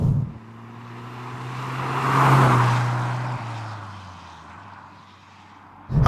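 A VW Golf GTI Mk6 drives past or accelerates, its engine and road noise swelling to a broad rushing peak mid-clip before fading, with a low steady hum underneath and no talk.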